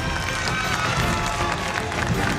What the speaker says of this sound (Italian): voglio l'applauso più potente mai sentito sulla terra, Serena!